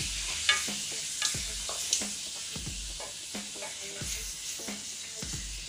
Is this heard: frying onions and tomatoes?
yes